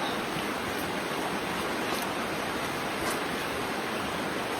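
River flowing beside a riverside hut where clothes are being washed, a steady broadband rush of water that stays even and close with no voices.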